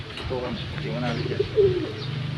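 Soft coos of imported Italian pigeons drift in over a steady low hum, with faint murmuring voices in the background.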